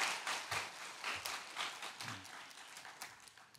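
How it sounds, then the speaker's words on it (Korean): A church congregation at a Sunday worship service gives encouraging applause for its ministry workers. The clapping is soft and somewhat distant, steady for a few seconds before thinning out. "보이지 않게 헌신하시는 사역들을 위해서 다시 한번 격려의 박수 부탁드리겠습니다"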